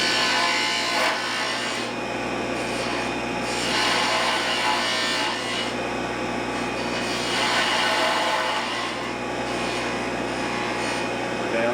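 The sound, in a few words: spindle gouge cutting wood on a lathe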